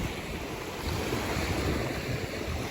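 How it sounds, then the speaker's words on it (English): Small ocean waves break on a sandy beach on a calm day, a close, steady roar of surf mixed with wind on the microphone and no speech. "Can everyone hear the sound of the waves?"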